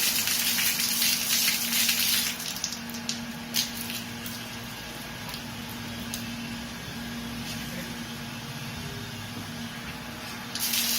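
Water gushes steadily through an Aashirvad pipe elbow fitting in a plumbing flow test, a loud continuous spraying rush that holds for about eleven seconds.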